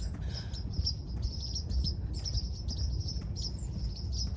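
Birds chirp outdoors during a morning walk, with repeated bright high tweets in short bursts over a steady low rumble of wind and ambient noise; no voices.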